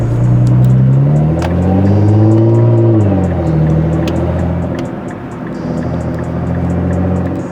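A Nissan GT-R R35 with a pops-and-bangs tune revs loudly and close, its engine note rising and falling, with sharp crackling pops from the exhaust spread throughout.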